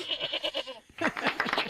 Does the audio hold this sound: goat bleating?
yes